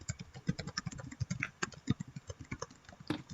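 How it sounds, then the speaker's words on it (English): Quick, irregular clicking of keys on a computer keyboard, fairly close and steady, with no voices. "We can hear you typing."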